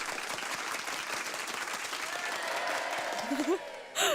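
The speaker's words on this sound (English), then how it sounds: "Thank you very, very much for that wonderful applause" Audience applauding after a traditional song at a Make Music Day concert, steady clapping that tapers near the end as a voice begins speaking over it.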